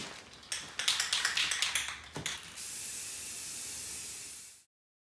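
Spray paint hisses from an aerosol can onto a desk, a few short bursts with can taps and rattles followed by a long, steady close spray that stops abruptly.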